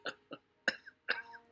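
Three or four short, faint coughs in quick succession from a character in Deadly Premonition 2, each a brief dry burst with gaps between.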